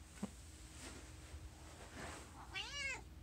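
A single cat meows once near the end, quiet and close, after a faint tap in an otherwise still room.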